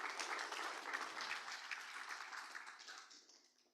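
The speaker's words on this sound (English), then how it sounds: "if we could give Steph one more round of applause" Conference audience applauding a speaker named Steph in a hall, a dense, steady wash of many hands clapping at moderate distance that gradually fades out toward the end.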